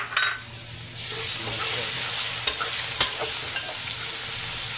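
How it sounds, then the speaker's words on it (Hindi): Browned onions with ginger garlic paste sizzle steadily in a pan for a chana dal and spinach dish, while a spoon stirs and scrapes with occasional sharp clinks against the pot. "10 मिनट अच्छी तरीके से भूनते हैं।"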